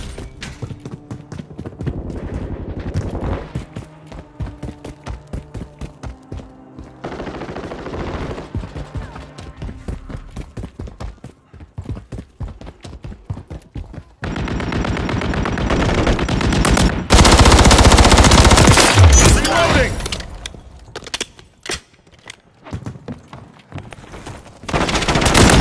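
Rival-9 submachine gun fire in a Call of Duty MW3 Team Deathmatch match on the Vista map, loud rapid bursts of automatic shots in repeated rattling strings, with a dense sustained barrage and heavy explosive roar partway through, over game background noise.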